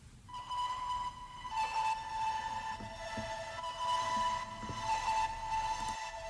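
Prepared piano sample processed with effects into an eerie, otherworldly drone of held, whistle-like tones, with occasional soft knocks underneath and a low rumble, steady and fairly quiet with no talking.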